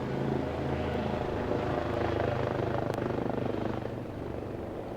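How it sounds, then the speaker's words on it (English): A helicopter in the video game Mount Wingsuit 2 gives a steady rotor chop and engine drone, loud and continuous throughout, fading slightly toward the end. "I've just seen there's a helicopter there with something hanging below it."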